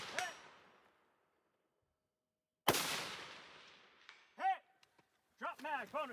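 Rifle shots at a woodland shooting competition stage, two sharp reports with decaying echoes a few seconds apart, followed by short bursts of speech.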